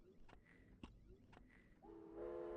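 Train sound from the game Myst: a faint, hollow rumble with rhythmic thumps and a whistle-like tone, swelling into a louder, steady harmonic whistle toward the end.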